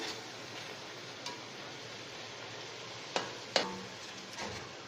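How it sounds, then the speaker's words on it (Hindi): Masala spices frying gently in a pan over a low flame for chana pulao, a steady soft sizzle with a few sharp clinks of a spoon stirring against the pan. "मसाले को फ्राई करते हुए जो है हम रखेंगे फ्लेम लो, ताकि हमारा मसाला जब वो जले ना।"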